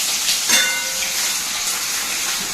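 Onions sizzling in hot oil in a home kitchen pan with bay leaf and black peppercorns, a steady close hissing fry that swells briefly, alone without talk.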